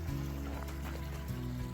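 A creek along a Pennsylvania summer trail flows with a faint, steady low rush and trickle, heard from nearby over low background noise.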